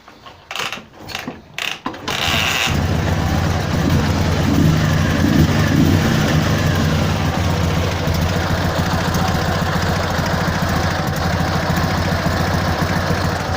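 A cold Dnipro 11 MT10-36 motorcycle engine cranks with a few short bursts, then catches and settles into a steady, loud, mechanical idle with a busy rattling clatter, heard close and continuous with no talking.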